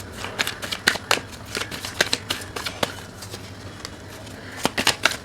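Tarot cards being shuffled close up, with a quick irregular run of crisp riffling snaps and soft card slaps, a few louder bursts near the end, and no talking over it.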